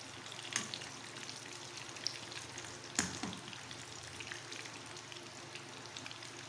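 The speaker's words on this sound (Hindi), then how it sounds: "ज़बरदस्त से हमारे ये फ्राई हो रहे हैं" Bread chicken rolls deep frying in oil over a medium flame: a faint, even bubbling crackle with a few isolated louder pops, heard alone without voices.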